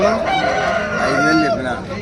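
A Tamil Nadu breed rooster at a rural livestock market in Kadapa district crows loudly and close, one long drawn-out call over a busy background of market chatter and other fowl.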